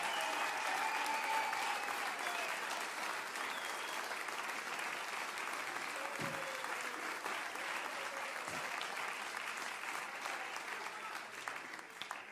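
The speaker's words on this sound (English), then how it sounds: "Give them a big God bless you clap." A church congregation claps steadily in sustained applause following a sermon, the broadband clapping continuous and loud throughout, with faint crowd murmur underneath.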